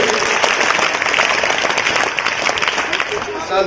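Applause from a school audience at a math quiz competition for 5th grade students, a steady dense clapping lasting a few seconds, close and fairly loud.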